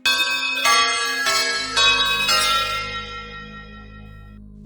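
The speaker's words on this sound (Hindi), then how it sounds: "अचानक मंदिर की घंटी अपने आप बजने लगी।" A temple bell rings loud and close with several clanging strikes in quick succession, each leaving a long shimmering metallic ring that slowly fades out, with no voices over it.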